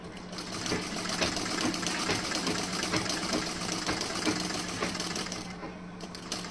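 A sewing machine stitches the neckline of a blouse front panel with a steady, moderately loud rapid whir that runs continuously for about six seconds with no talking.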